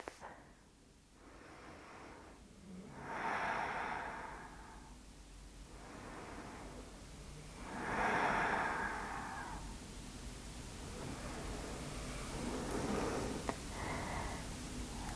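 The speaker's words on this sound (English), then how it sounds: "Give yourself a few rounds of breath." Slow, deep breaths drawn during a home vinyasa yoga practice, several long airy inhales and exhales rising and falling in a soft, close, unhurried rhythm with no talk over them.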